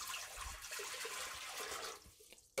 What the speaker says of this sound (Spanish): Vamos a colocar nuestro litro de agua